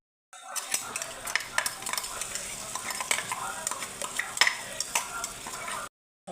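Ground spice masala of turmeric, red chilli powder and grated coconut paste sizzles gently in oil in a pan while a spoon stirs it, scraping clicks and taps recurring irregularly over the soft frying hiss, fairly quiet and close.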